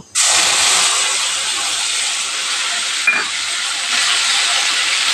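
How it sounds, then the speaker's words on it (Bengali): Paste of onion, ginger, garlic and mustard hitting a hot pan for jackfruit curry, bursting into a loud, sudden sizzle that holds as a steady, close hiss throughout. "এই মশলাটা আমি এখন এখানে দিয়ে দেব"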